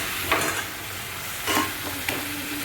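Potatoes tipped into a pan of egg masala curry frying on the stove, a steady sizzle broken by a few scraping stirs of the spoon.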